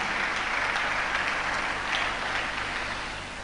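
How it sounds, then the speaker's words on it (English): Sustained applause from an audience at a memorial gathering, a steady dense wash of clapping held throughout and tapering slightly at the end, with no voices over it. "Please, a round of applause for them"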